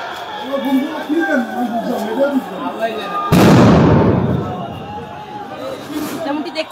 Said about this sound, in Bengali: যেমনটি দেখছেন একের পর এক কিন্তু সাউন্ড গ্রেনেড নিক্ষেপ করা হচ্ছে এবং নিক্ষেপ করা হচ্ছে।